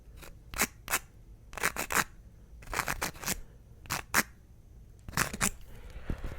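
Close, crisp scratching of a pen writing out the word tingles, several quick clustered strokes separated by short gaps, soft overall with no voices.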